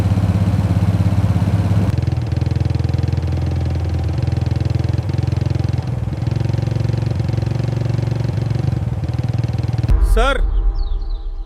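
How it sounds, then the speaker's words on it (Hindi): A Royal Enfield Bullet motorcycle ridden by an army man approaches on a road in Arunachal Pradesh, its loud, steady engine thump droning throughout, with speech heard over it. "सर, कोई आर्मी वाला बुलेट से आ रहा है।"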